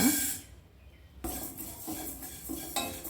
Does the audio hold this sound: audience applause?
no